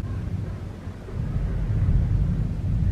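Low, continuous thunder rumble rolls through a South Carolina thunderstorm with rain, a steady heavy roar that swells slightly in the second half, heard alone without talk.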